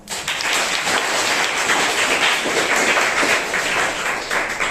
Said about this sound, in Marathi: टाळ्या वाजवा यासाठी